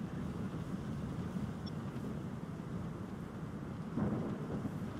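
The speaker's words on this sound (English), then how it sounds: "like we got like three distinct like thunder sounds, and felt like explosion." Rumbling thunder from a modded storm in Minecraft, a continuous low roar over rain-like hiss with a heavier boom swelling near the end.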